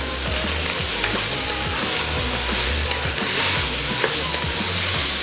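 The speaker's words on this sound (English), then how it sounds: "Scramble the egg and mix everything with beef and broccoli." Fried rice with scrambled egg, beef and broccoli being stirred in a hot pan, a steady loud sizzle with repeated scraping strokes of the utensil throughout, no voices.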